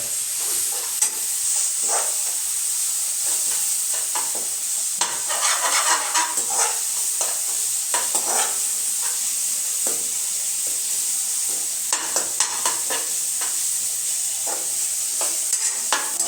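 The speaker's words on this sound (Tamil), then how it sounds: "வெண்டைக்காயும் கத்திரிக்காயும் வதக்காச்சு" Okra and brinjal sizzling as they are sautéed for sambar, a continuous bright frying hiss broken by repeated scraping stirs of a spoon in the pan, close and fairly loud with no talking.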